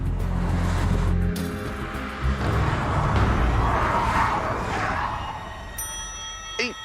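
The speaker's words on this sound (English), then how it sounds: "coming through it now as fast as possible is a Peugeot 208" A Peugeot 208 driven flat out through a radar trap roars loudly and continuously, its engine note rising and sweeping past close by, with tire and wind noise and a brief squeal near the end.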